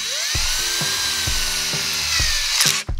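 A Parkside PBSA 20-Li A1 cordless drill fitted with a small metal bit drills into steel, its motor whining steadily with repeated short pulses and bites as the bit catches, loud and close, ending in a brief stop.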